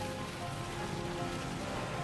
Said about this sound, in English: at one point we had a downpour just like this while we're processing the crime scene